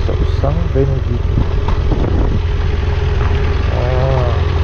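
A motorcycle engine idles with a steady low rumble at Iruya, near the São Benedito bus terminal, running continuously throughout while people talk over it.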